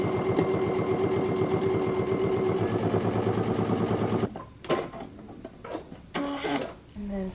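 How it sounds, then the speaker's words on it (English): A sewing machine understitches a jumpsuit pocket facing, running in a rapid, even mechanical chatter for about four seconds before stopping, followed by a few soft handling knocks and rustles. "we're going to do some understitching just on the pocket"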